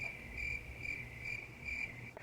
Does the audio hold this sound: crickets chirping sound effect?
yes